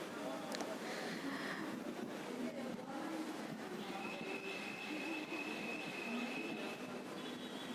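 A Kochi metro train pulls into a station, wheels squealing in a sustained high whine over a loud rolling rumble, with faint voices on the platform.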